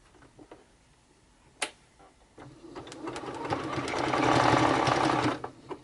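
A sewing machine runs a zigzag stitch along the top of fabric, starting with a few isolated clicks before building to a steady, loud rattling whir that stops abruptly, close by.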